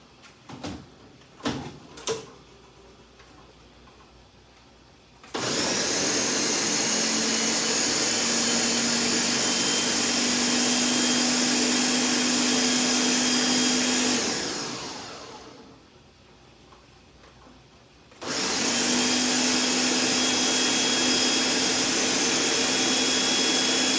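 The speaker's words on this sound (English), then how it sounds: "I have to use the blender" A blender running to make a sauce, a steady loud motor whine that winds down, pauses briefly, then starts again at full power, close by.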